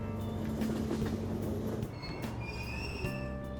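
Train station in the video game Persona 5 Royal: a train rumbles and clatters at the platform, with high screeching wheel squeals and sustained tonal whines rising over it.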